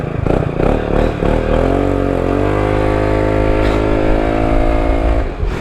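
A Peugeot XP400 GT scooter accelerates hard from a standstill to 50 km/h, its engine note rising loud and close, then settling into a steady drone with a strong, even harmonic whine.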